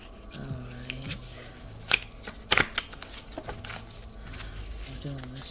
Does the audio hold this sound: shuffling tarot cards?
yes